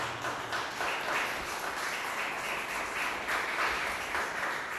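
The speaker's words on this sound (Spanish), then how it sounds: "¿Por qué no le da un fuerte aplauso al Señor?" A church congregation claps steadily in a broad wash of applause during a Holy Week sermon, moderately distant and even in level, with no voices over it.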